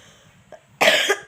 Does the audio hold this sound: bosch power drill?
no